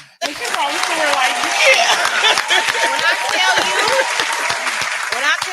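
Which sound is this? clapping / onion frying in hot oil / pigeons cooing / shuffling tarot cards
clapping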